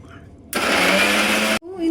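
A faulty mixer grinder grinding egg curry paste whirs loudly for about a second, then cuts off abruptly; quieter voices are heard before and after.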